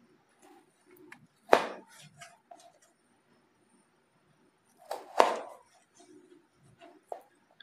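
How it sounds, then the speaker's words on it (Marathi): A knife cuts potatoes into finger chips on a board, with two loud sharp chops a few seconds apart amid softer slicing taps and small knocks in an otherwise quiet kitchen. "पण हा जो साइडचा भाग आहे तो आपण कट करून घेऊया"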